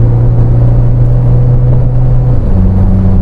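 A Toyota Fortuner 2.8 GR with the 1GD-FTV diesel, remapped, accelerating in fourth gear: a loud, steady droning engine hum under heavy road rumble, the pitch stepping up slightly near the end, no talk.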